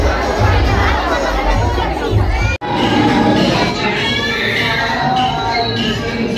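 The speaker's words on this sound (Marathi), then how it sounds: "भरपूर गर्दी आहे" A bustling crowd at the Kelamba temple during Navratri, loud overlapping voices and children's shouts, with a brief cut partway through and nearby talking.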